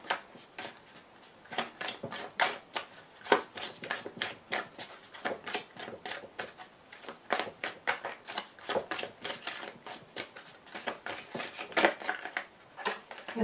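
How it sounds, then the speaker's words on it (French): Tarot cards being cut and drawn from a deck, a dense run of quick papery slaps and flicks that keep going the whole time, close and fairly even, with no talking. "Je coupe et donc il me faut juste une carte."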